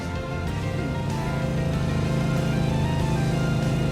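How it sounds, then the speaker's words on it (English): A car engine in Trails through Daybreak, a steady loud motor drone holding throughout with faint rising tone as it draws near, no voices over it. "God, I know the sound of that engine."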